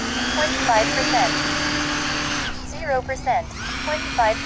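E-flite Aeroscout RC plane flying overhead, a steady buzzing motor whine with shifting pitch as it passes, carrying on throughout alongside intermittent chirping sounds.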